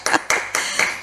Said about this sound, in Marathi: जरा थांब, मी टाळ्या वाजवते